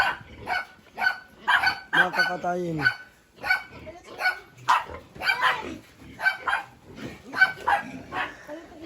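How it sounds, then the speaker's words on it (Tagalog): A dog barks repeatedly, close and loud, with sharp yips mixed in, while a person talks over it briefly. "Oh, may aso."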